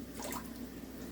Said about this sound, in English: Okay, we add water.